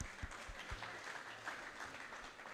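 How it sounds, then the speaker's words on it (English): An audience claps at the Abuja Photo Festival, a fairly quiet, distant spread of applause with a few sharper individual claps standing out near the start. "Please, once again, a round of applause for Fatih Abubakar."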